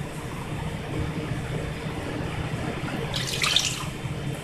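Steady water pours close by into a measuring cup with a constant rushing hiss, brightening briefly near the end as the flow splashes.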